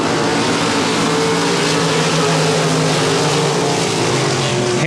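Race Saver sprint cars roaring at the start of a main event at Sabine Motor Speedway dirt track, loud sustained engine drone with several overlapping pitches rising and shifting, no talk.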